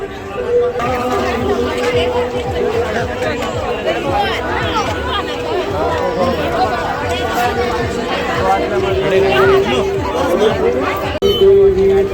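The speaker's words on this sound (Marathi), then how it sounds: "The crowd is building. गर्दी वाढत आहे." A dense crowd chatters and murmurs at the busy Bharadi Aai jatra fair in Anganewadi, Sindhudurg, a continuous outdoor babble of many voices with footsteps and movement mixed in.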